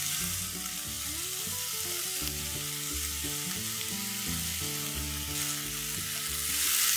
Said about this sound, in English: I'm going to start with some carrots. Saute that.